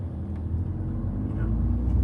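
A Volkswagen Scirocco driving at night on a busy road gives a steady, close, deep engine and road rumble heard from inside the car, continuous and unbroken.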